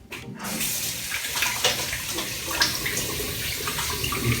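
Warm water runs from a bathroom tap in a steady, close, hissing gush that fills a sink before a shave, with faint splashes and no voices.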